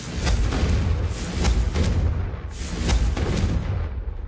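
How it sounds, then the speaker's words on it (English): Explosive blast of the Confringo blasting curse in a wizarding video game: loud, dense rumbling bursts layered over one another for about four seconds, with no speech. "The blasting curse, Confringo, fires an explosive blast."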